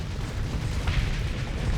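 Cannon volley explosions in a space fleet video game form a dense, continuous low rumble of booms, with one brighter burst in the middle and no voices.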